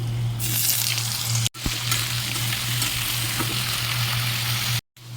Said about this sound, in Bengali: আলুটা একটু ভাজা ভাজা হয়ে গেলে